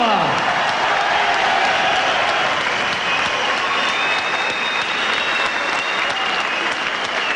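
Boxing arena crowd applauds the losing fighter after a 154-lb bout, a loud, sustained wash of clapping and cheers with whistles, while a ring announcer's voice comes through over the noise.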